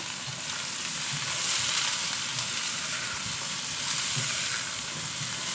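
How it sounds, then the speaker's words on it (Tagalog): Potatoes and carrots for pork kaldereta fry in hot oil with a dense, continuous sizzle, and soft stirring knocks recur every second or so. "Para maprito din ang ating patatas, ang ating carrot."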